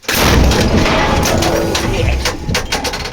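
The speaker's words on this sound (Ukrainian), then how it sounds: "Гармата. Постріл." An artillery gun fires in a heavy, booming blast that hits at once and rumbles on, with rattling and clatter trailing off over a few seconds.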